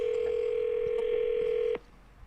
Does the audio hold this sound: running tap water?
no